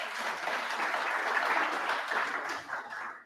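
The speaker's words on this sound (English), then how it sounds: "A big clap for all of you." Broad, sustained applause from a forum audience at a regional sustainable development gathering, loud and even before thinning out toward the end.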